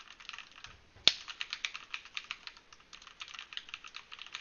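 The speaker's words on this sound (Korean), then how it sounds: "체리 적축 키보드를 사용해 테스트를 해봤는데요" Rapid, even clacking of Cherry MX Red mechanical keyboard keys being typed, close and fairly soft, with a sharper keystroke near the start.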